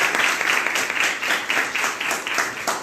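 Audience applause after a song at a Hindi-speaking church gathering, a steady wash of many hands clapping for under three seconds, moderately loud with no voices over it.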